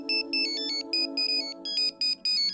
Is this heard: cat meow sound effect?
no